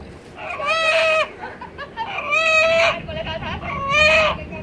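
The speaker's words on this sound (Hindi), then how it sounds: "और मुर्गा कुकड़ू कू करता है" A rooster crows three times in a row, loud and close, each long drawn-out call separated by a short pause.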